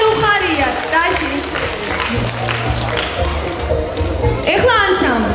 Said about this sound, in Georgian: ტაში ხალხო, ტაში